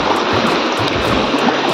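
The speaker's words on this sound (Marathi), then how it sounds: "त्यांच्या सगळ्या प्लॉटमधून थोडंफार का होईना पाणी वाहत आहे." Water running through large plots on the way from Nubra to Turtuk in Ladakh, a loud continuous rushing flow with no break or voices.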